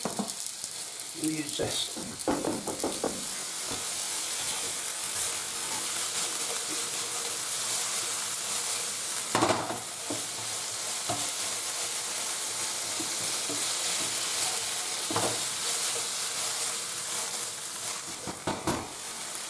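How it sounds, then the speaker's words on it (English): Beef browning in a hot pan for a beef stroganoff, a steady loud sizzle and crackle running throughout with occasional stirring scrapes, and a brief spoken remark near the start. "now we're going to drop in the beef. Start browning that off."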